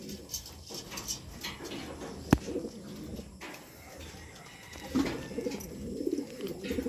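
Racing pigeons at a loft in Carmen, Pangasinan coo softly and repeatedly, low and close, with rustling, a sharp tap and faint background bird chirps.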